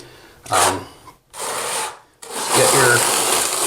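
Steel trowel scraping and spreading thinset mortar over a floor uncoupling membrane near a toilet flange, three close, rasping strokes separated by short pauses.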